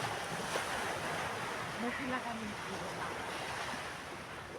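Ocean waves break continuously on the shore at high tide, a loud, dense wash of surf mixed with wind noise on the microphone and no pauses.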